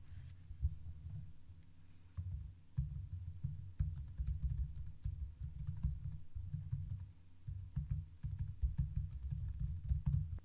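Instructions being typed on a computer keyboard, with rapid, uneven clusters of soft keystrokes tapping close by in an otherwise quiet room.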